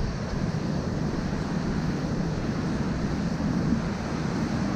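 Steady rushing water from a series of small cascades on a mountain trail in the Marcadau valley, a constant broad roar heard up close with no talk.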